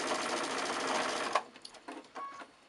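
A sewing machine stitching a quarter-inch quilt seam runs steadily at close range for over a second, then stops, leaving soft clicks and fabric handling.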